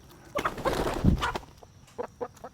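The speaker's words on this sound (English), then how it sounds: "That was a ninja chicken right there." Chicken clucking close by in a short burst of squawks and clucks with a flurry of movement, then a few quieter clucks trailing off.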